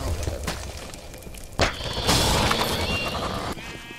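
Sheep bleating in the video game Minecraft Dungeons, a few synthetic bleats mixed into busy game effects and a thump, with occasional faint talk from the player.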